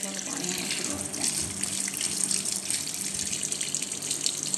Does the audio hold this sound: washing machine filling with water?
yes